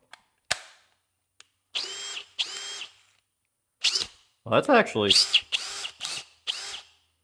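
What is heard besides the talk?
brushless cordless power drill running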